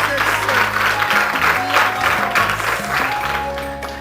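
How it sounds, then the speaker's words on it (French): Audience applause at a school ceremony where an envelope is presented to students: a dense, steady patter of clapping holding for about four seconds, layered over tonal background music. "Applaudissez très fort"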